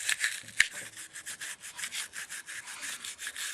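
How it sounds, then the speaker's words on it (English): Nylon brushes scrub inside a Sig Sauer P938 pistol magazine. The close, rhythmic rubbing strokes repeat evenly, with one sharp tap near the start. "And I'll just take my nylon brushes to it. Get all that junk out of there."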